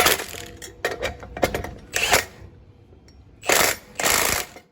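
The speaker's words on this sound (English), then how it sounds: "we'll lightly come down with the impact" A Milwaukee M18 impact wrench runs up clutch bolts on a four-cylinder RZR Pro R clutch kit in several short close bursts, each a loud ratcheting hammer lasting under a second, with brief pauses between them.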